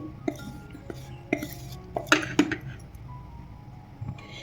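A few light metallic clinks and taps of a spoon against a metal bowl as roasted gram flour is scooped in, sparse and close, with quiet pauses between them.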